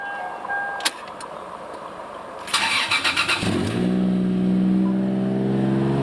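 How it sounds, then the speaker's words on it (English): A car engine cranks with a short burst of starter chatter, then catches and settles into a steady, loud idle close by. "So here's our engine start."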